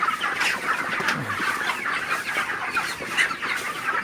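Broiler chickens cluck continuously in a hot, crowded shed, many birds overlapping in a close, busy chorus of short repeated calls with no talking.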